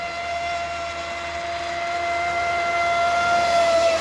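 A Traxxas Spartan RC boat with a smaller 4514 prop runs at about half throttle, giving a steady high electric whine that climbs slightly in pitch as it pulls away over water.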